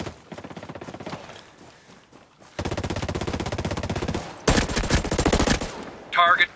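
Rapid automatic gunfire from the video game Ghost Recon Breakpoint rattles in long bursts, switching between weapons, with one loud, dense volley near the end and a brief electronic chirp.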